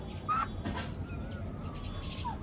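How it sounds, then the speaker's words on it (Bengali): Bahama chickens and roosters at a hatchery give a few short clucks and squawks at middle distance over a constant background hum, with no voices. "এগুলো হচ্ছে বাহামা মুরগি"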